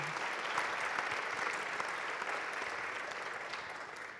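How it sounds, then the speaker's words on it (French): Conference attendees in a hall applaud steadily for about four seconds, a continuous even patter of many hands heard at moderate distance with no voices over it. "Oui, on peut l'applaudir, mesdames et messieurs."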